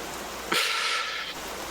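Rain in the video game Vintage Story, a soft hiss that swells in suddenly, holds steady for most of a second, then fades back to a quiet ambient background.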